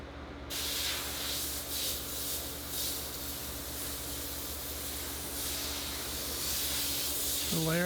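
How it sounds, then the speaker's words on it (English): Running water hisses and sprays steadily as a letterpress engraving plate is rinsed clean of chemistry, close and continuous, with a brief voice near the end. "just rinse it off and clean the chemistry off of it with a little soap and"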